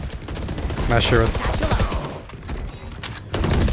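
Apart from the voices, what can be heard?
gunfight gunfire in the video game Valorant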